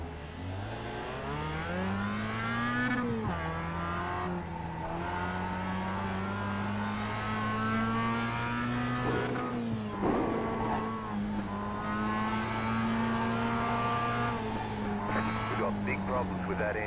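Race car engine in Wreckfest VR, a figure-8 demolition racing game, droning steadily with rising and falling revs and gear shifts, loud and close, with occasional tire noise underneath.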